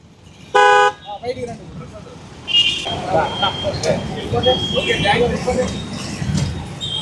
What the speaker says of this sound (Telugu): ఏం మీరు బస్సు హార్న్ పెట్టారు ఏకంగా?